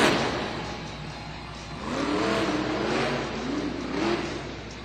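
Megalodon monster truck at a Monster Jam arena freestyle event in Orlando, its engine being refired: a rough rising and falling engine roar swells a few times over steady crowd and arena noise.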